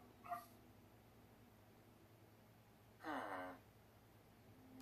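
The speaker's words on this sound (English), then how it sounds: "That was my dog" A pet dog gives two short, high yips or whimpers, one at the very start and a second, slightly longer one a few seconds later, both fairly close and clear over a quiet, steady background hum.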